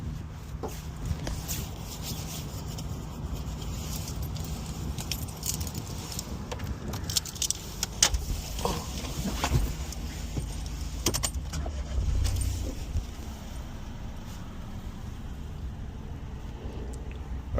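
Keys jangle and rattle close by in the ignition of a 2021 Toyota Aygo X-Trend, a small petrol car, with scattered clicks and clinks, then a low engine rumble near the end. Faint clucking from nearby chickens sits in the background.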